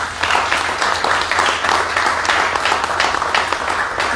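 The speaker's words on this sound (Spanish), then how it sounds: "Por favor, un aplauso para ellos." Audience applause at a tribute concert, loud continuous clapping from a crowd sustained throughout with a low steady hum underneath.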